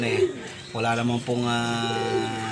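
Pigeons in a loft give close, throaty coos with rising and falling pulses, loud and near, mixed with a person talking.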